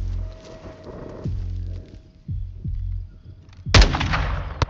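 Sniper gunfire in the Call of Duty Modern Warfare 2 video game: several booming shots with rolling echoes at irregular intervals, then a louder, sharper blast near the end.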